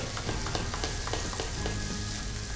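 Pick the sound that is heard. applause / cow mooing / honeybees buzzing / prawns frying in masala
prawns frying in masala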